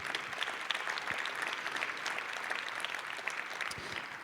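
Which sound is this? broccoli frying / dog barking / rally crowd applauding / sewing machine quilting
rally crowd applauding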